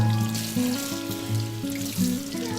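Tap water runs steadily into a cooking pot holding washed, cut corn cobs, a continuous close pour whose pitch shifts gently as the pot fills about halfway, with no voices.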